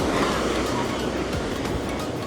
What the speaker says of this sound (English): The waves look a bit hectic there.